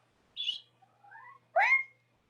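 A pet cat meows indoors, giving three short separate calls close to the microphone in a quiet room, the last call louder than the others.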